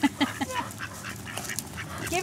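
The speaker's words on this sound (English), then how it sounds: "Look at all these ducks coming to see Jesse." Several ducks quack in short bursts close by, with scattered outdoor noise and soft voices in the background.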